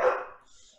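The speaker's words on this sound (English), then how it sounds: "I am dog sitting another dog, so you may hear him in the background." A dog gives one short, sharp bark nearby indoors, followed by a faint fading tail and quiet.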